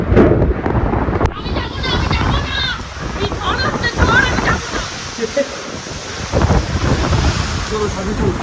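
Heavy storm rain and gusting wind roar steadily and loudly close to the microphone, buffeting it throughout while voices shout over the noise.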